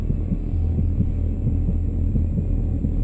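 Steady heartbeat thumps from a minigame in The Quarry video game pulse low and evenly over a constant hum, loud and close with no talk.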